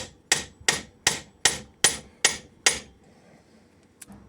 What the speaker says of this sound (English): a little bit of persuasion with the hammer, and now it's okay